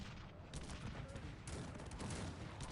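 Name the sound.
artillery firing in video game Cossacks 3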